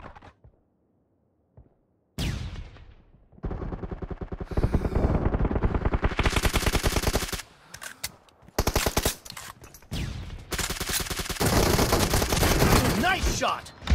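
Video game gunfire in PUBG: loud, dense bursts of automatic fire and rapid shots, nearly continuous after a brief quiet start, with short gaps between volleys.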